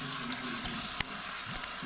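Tap water runs in a steady, close hiss into a sink during a wet shave, with no talk and only a brief click partway through.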